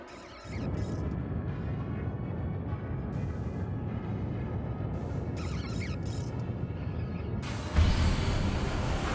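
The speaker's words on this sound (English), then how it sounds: "There's a sound which is kind of like an aeroplane taking off." A steady, loud rushing roar like a jet taking off as a distortion forms in the video game Pokemon Legends Arceus, continuous and broadband, swelling slightly louder near the end, with no voices.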